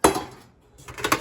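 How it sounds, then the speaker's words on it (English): Stainless steel pots and pans from a Greatland outdoor camp cooking set clatter and clink as they are handled, with two bursts of metallic rattling separated by a brief pause, close and fairly loud. "Pots and pans."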